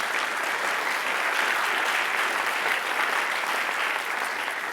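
A church congregation applauds together at an anniversary celebration, a dense, steady wash of many hands clapping that holds at an even, fairly loud level from start to finish with no talking on top.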